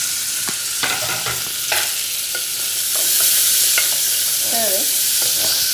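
Chopped onions frying for pav bhaji, stirred with quick scraping strokes against the pan over a loud, steady sizzle, with no voices.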